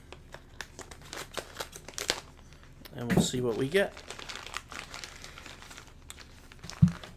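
Plastic packaging crinkles and crackles as it is cut open with scissors, a burst of crunchy rustling amid soft handling noises, with a person talking briefly.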